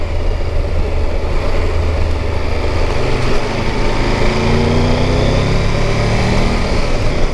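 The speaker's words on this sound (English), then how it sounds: "Low end growl without being too noisy. Fairly muted exhaust." A Triumph Tiger 1200 GT Pro motorcycle engine rumbles steadily and low without a break, a muffled exhaust growl holding an even pitch with no voices over it.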